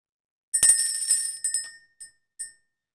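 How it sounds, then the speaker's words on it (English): A bell struck once with a bright metallic ding that rings on and decays, followed by a few fainter, quicker taps, near and alone without talk. "let's ring the bell"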